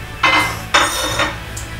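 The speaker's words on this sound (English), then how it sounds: "Stir it all up." Braised short rib ingredients stirred in a pot with lemon zest added, giving three distinct scraping clinks of a utensil against the pot, spaced about half a second apart, close and fairly loud over a quiet background.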